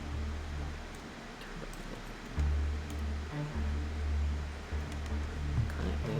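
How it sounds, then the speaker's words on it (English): A massive bass synth preset in Ableton Live, with noise colored to sound metallic, plays low repeating droning notes under a hissy, rustling wash of noise at a fairly quiet level. "And then this bass synth thing, which is massive."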